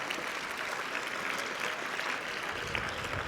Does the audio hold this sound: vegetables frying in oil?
no